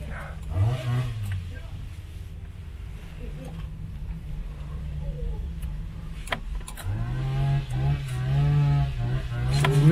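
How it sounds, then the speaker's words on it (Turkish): An old scrapped Tofaş car is started and revved, with a low engine rumble, a mid-clip hiss and a rising rev toward the end, mixed with nearby voices. "inşallah arabamızı çalıştıracağız şu anda"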